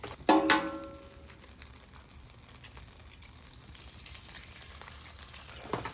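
Butter and eggs sizzle quietly on a Weber Traveler 22-inch portable griddle, a steady soft frying hiss that starts with a brief louder crackle and holds evenly throughout.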